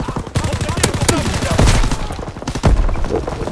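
In a WW2 shooter game, dense rapid gunfire crackles in loud bursts of automatic shots and heavy booms. Battle voices call out faintly underneath.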